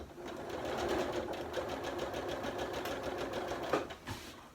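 A sewing machine stitches a seam across an upcycled zip pouch, a continuous close rapid whirring drone with steady needle rhythm throughout, without speech.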